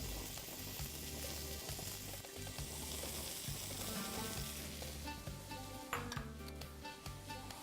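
Asparagus tips sizzle steadily in a hot pan, a continuous close frying hiss with occasional stirring and a brief clink of utensils against the pan.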